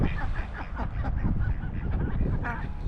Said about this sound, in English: I'm sure you can hear the ducks.